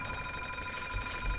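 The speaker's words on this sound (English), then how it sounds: "Sorry for the phone ringing." A telephone bell rings steadily and continuously in a room during a Fallout Shelter gaming session, its tone loud and unbroken throughout, with no speech over it.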